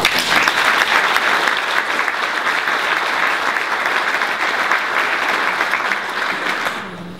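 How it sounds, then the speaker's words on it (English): A symposium audience gives a sustained round of applause for nominees, dense and even clapping from a crowd that holds steady for several seconds before tapering off at the end. "I hope you'll join me in a round of applause for them."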